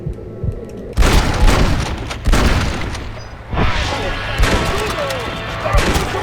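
Heavy explosive rifle blasts from the Xbox 360 game Red Dead Redemption Undead Nightmare, several loud booming shots with crashing impacts spaced a second or so apart, each followed by rumbling decay.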